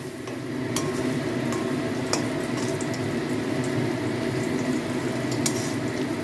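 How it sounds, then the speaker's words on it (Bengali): Chickpea lentil fritters (bora) frying gently in oil over a low flame, a soft continuous bubbling sizzle with a few sharp pops and utensil clicks, fairly quiet and without talk. "এবার দেখো এই বড়াগুলো খুব ভালো করে ভেজে নেব"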